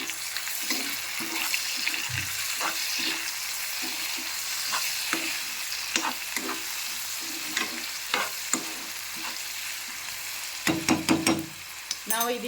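Onions sizzle and fry steadily in oil in a pan for mutton brain masala, a constant close hiss with occasional scraping stirs and clinks of a spoon against the pan.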